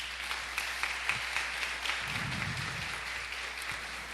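Congregation at a Catholic sermon applauding the Holy Scriptures, a steady wash of hand clapping from a crowded room at moderate level, with a few low murmurs beneath.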